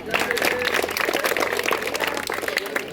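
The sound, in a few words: audience clapping loudly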